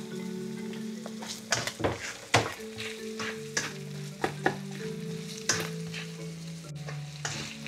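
Onion sizzling as it sautés in a pan, a quiet steady fry broken by repeated sharp spatula scrapes and taps against the pan, close by, while a faint tonal hum sits underneath.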